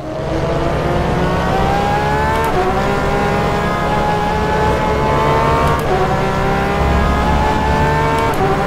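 Porsche 911 RSR GTE race car engine at Portimao in rFactor 2, loud and close, climbing through rising revs with sharp gear shifts every few seconds and a continuous high-pitched roar.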